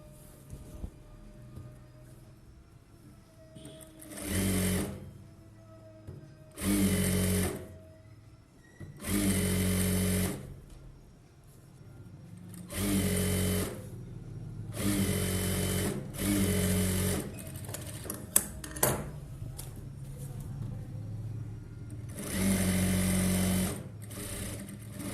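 A domestic sewing machine hems a blouse in repeated bursts of steady, buzzing stitching, each lasting a second or two, separated by quiet pauses as the fabric is adjusted.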